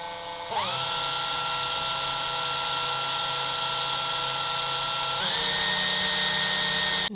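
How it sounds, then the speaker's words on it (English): A small bit in a power drill spins up with a sharp, high whine against a car body, running steadily for several seconds, then briefly easing and revving up again, close and clear. "I'm going to start with a smaller drill bit and work my way up"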